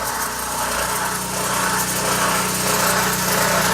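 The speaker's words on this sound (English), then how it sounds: "He's got an engine in the back of his van." A small engine runs in the back of a valeting van, a steady buzzing drone with a constant low hum, close and fairly loud, with a slight swell toward the end.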